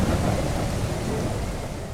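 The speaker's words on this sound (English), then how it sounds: "Holy cow, this is a storm." Heavy rain and a deep rolling thunder rumble fill a thunderstorm in the survival game Mist Survival, steady and loud throughout with a dense low roar and no voices.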